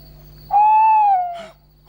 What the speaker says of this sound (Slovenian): Bojiš se uboge male sovice